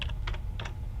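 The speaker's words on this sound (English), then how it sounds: "we're going to type in the command" A few quick keystrokes on a computer keyboard as a command is typed, close and clear over a low steady background hum.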